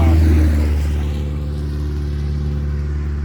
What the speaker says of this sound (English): here comes some more loud vehicles